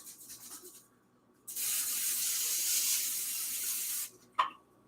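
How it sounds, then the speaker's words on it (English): Olive oil cooking spray hisses from a can in one long burst of about two and a half seconds, close and fairly loud, followed by a short click. "The olive oil spray."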